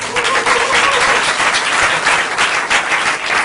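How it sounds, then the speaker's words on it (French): Audience applause at a stage performance of a humorous lecture-show, a dense, steady wash of many hands clapping close by, sustained without a break throughout. "Tu salues le public t'applaudit."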